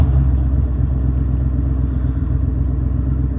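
GMC Sierra pickup with an 8.1 Vortec engine idling with low oil pressure, a loud, steady rhythmic hammering and knocking from close by, with no talk.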